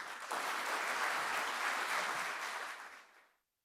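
A crowd applauds to welcome guests at a JFK homecoming event in Ireland, a steady wash of clapping for about three seconds before it fades to silence.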